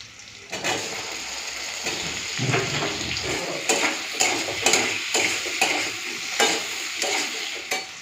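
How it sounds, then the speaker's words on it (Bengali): Chopped tomato drops into fried onions in a hot pan, setting off a sudden loud sizzle that holds steady, broken by repeated scraping stirs of a spatula. "পেঁয়াজটা লাল করে ভেজে নিয়েছি আর এখন কেটে টমেটোটা দিয়ে দিচ্ছি"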